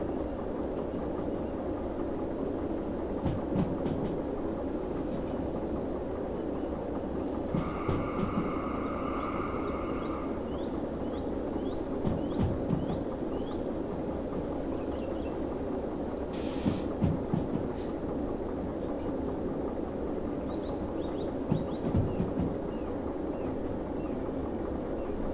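Train rolling downhill with its brake applied in the Derail Valley train simulator game, a steady low rumble of wheels and rails with occasional clunks and a brief hissing brake release partway through.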